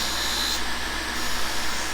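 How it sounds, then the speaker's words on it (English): A shop vacuum runs beside a milling machine, sucking up carbide dust from grinding a cutting tool. It makes a steady, loud broadband roar with no breaks. "Vacuum's picking it up good."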